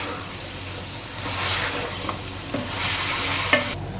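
Minced beef keema fries in a hot pan with a dense, continuous sizzle, while a spoon stirs it with a few scraping knocks near the end.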